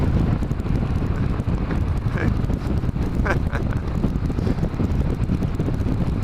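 Harley Davidson motorcycle ridden at about 65 mph under hard throttle, a loud, steady roar of wind buffeting and engine noise filling the whole stretch, with faint voice fragments buried underneath.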